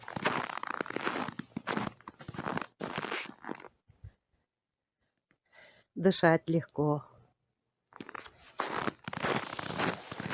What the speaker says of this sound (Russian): Под ногами снег хрустит.